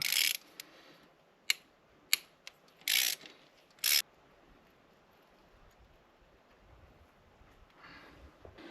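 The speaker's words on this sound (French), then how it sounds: "à l'aide d'un embout Torx E10, on va le desserrer. On va desserrer la vis qui maintient notre injecteur" Ratchet with a Torx E10 bit loosening an injector screw on a Mercedes W210 E290, several quick clicking bursts and short ratcheting runs, close but quiet, followed by near silence.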